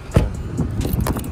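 A bunch of car keys jangles up close in a couple of quick rattling bursts, with a faint vehicle hum underneath and no talking.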